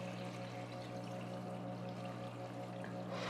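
Water pours steadily into a hydroponics bucket holding a net pot, a continuous close wash with a low steady hum underneath and no talk.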